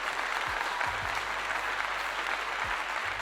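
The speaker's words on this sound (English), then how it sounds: "Let's give it a clap" Steady crowd applause at a gathering honoring Colorado football coach Deion Sanders, continuous clapping at even volume throughout, with a low hum and a few thumps beneath.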